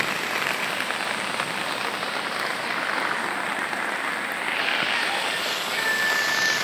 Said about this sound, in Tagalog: Lakas ang ulan, baha.